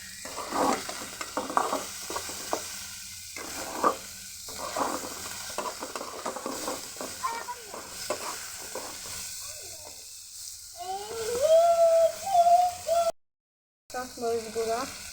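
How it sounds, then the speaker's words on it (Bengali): Cut potato pieces sizzle in a pan with onion and spices as a spoon stirs and scrapes in uneven bursts, moderately close, with a brief gap near the end. "এখন এর মধ্যে দিয়ে দিচ্ছি কেটে রাখা আলুর টুকরোগুলি"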